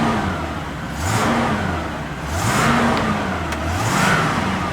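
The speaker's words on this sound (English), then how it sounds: "Let's give her some gas a little bit." A 1968 Pontiac LeMans with a 350 two-barrel engine revs up and down three times in a rolling rhythm, swelling and easing off between throttle blips.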